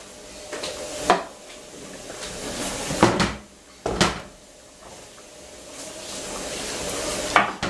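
A spoon of oil in a saucepan coating vegetables: close, intermittent scraping and stirring strokes with a few sharp clacks of utensil on pot over a faint continuous sizzle, no talking.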